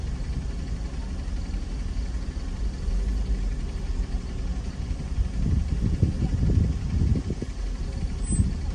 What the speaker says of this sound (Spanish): Y mucho tráfico, ¿eh?